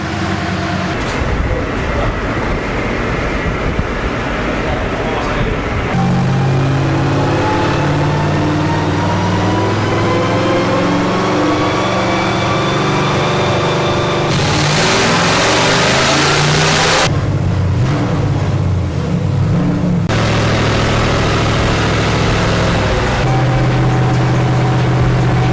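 A race car engine roars on a dynamometer, long sustained loud revs climbing in pitch, dropping, then rising again across several pulls, with no talking.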